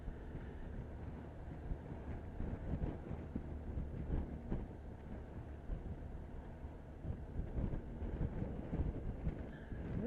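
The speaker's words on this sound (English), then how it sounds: "It's a bit windy down here." Wind buffeting and rushing past a rider on a BMW R1200RT motorcycle in Devon, a steady broadband roar with gusty surges throughout and no talk.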